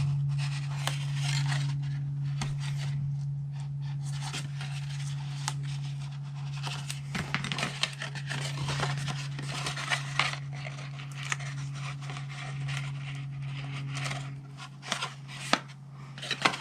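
Tape being torn and pressed onto a paper two-flap box, with crisp scratchy rips and rustling handling of paper and card close by, repeating irregularly throughout.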